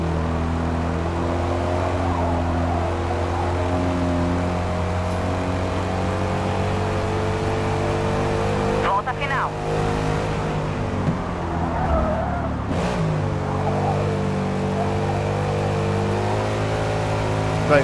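Race car engine in Forza Motorsport 8 holding a loud, steady multi-harmonic drone near and constant, shifting pitch through gear changes, with brief tyre-scrub bursts around the middle as the tyres are worked hard; no talking.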